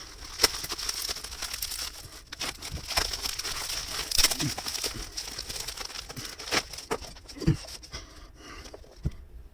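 A Pagani Design PD1723 watch box being cut open, heard as soft scattered scraping, crinkling and tapping of cardboard and packaging, close and quiet, with occasional louder clicks and no talking.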